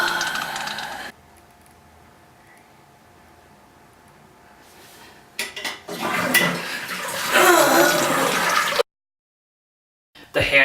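A toilet flushes in a public washroom, a rushing gurgle of water that swells after a quieter stretch of room hiss, then cuts off before another brief burst.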